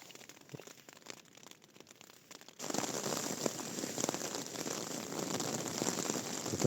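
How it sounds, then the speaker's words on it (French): Rain begins falling during a mountain thunderstorm on a hiking trail, a sudden jump from quiet to a dense, steady patter of drops on surfaces that holds loud to the end. "Là, il commence à pleuvoir."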